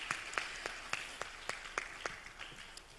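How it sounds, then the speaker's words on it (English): Sparse, faint clapping at an international publishers' congress: distinct, evenly spaced hand claps in a steady rhythm, heard at a distance with no other sound over them. "Give her a round of applause."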